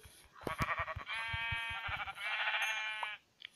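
Sheep in the Minecraft Pocket Edition video game bleating in several long, wavering calls, loud and close, with soft blocky footstep thumps underneath and no talking.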